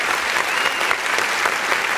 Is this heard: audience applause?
yes